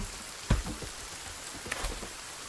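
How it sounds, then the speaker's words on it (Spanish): Steady rain patters in the Sons of the Forest video game, a soft continuous hiss punctuated by a couple of brief heavier thuds, with no talking. "He dicho que llovía y ha llovido al instante"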